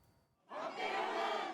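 Supporters cheering outside the Seoul Central Regional Military Court, a sudden swell of crowd shouts and applause that rises after a quiet moment and holds loud and dense.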